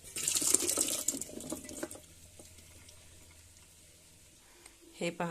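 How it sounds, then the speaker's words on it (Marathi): A person speaks briefly, then salted soaking water trickles and drains steadily off bitter gourd at a soft level, ending with a louder clatter. "आता मिठाच्या पाण्यातले कारले नितळून घेऊया."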